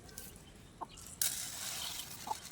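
Chicks and chickens cluck in a household coop, faint and sparse, with a couple of short soft calls over quiet background noise and a brief rustle midway.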